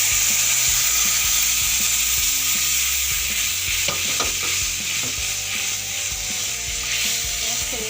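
Tangy chengeri tenga juice hits a hot pan of mustard seeds and turmeric, a loud steady sizzle and hiss filling the whole stretch, with a few light clinks of stirring partway through.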